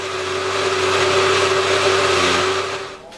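A blender blending a chili pepper, onion, garlic and oil sauce whirs steadily at high speed for a few seconds, a loud continuous motor roar that winds down at the end.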